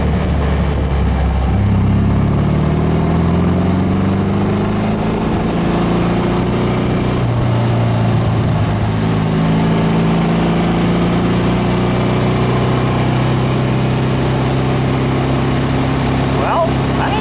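A 1776 single-port engine with a single carburetor runs steadily and loud, a continuous droning hum that rises and falls in pitch as it revs, heard from close by throughout with no pause.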